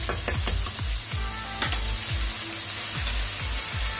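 Onions frying in a pan for Manchurian, cooked until reddish: a close, steady hiss of sizzling oil with occasional soft scraping or stirring knocks, continuous and even throughout.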